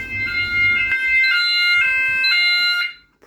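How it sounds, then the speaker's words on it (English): A house fire alarm system sounds in pre-alarm with loud, bright electronic tones that step between pitches in a repeating pattern, close and clear over a low background rumble. "I think it's in pre-alarm."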